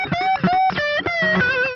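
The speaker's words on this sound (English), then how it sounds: "Here's that same guitar with the reverb and the high end removed." Solo guitar with its reverb and high end removed plays a short melodic phrase of distinct plucked notes, dry and dull-toned, each note sustaining briefly before the next.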